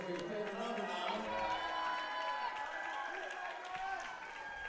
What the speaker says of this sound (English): Come on, let's cheer on. Let's hear it for your favorite number